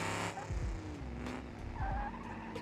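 In a racing video game, a car on new sport tires skids with squealing and engine drone, and scrapes and thumps come through the steady roar, close and continuous without talk.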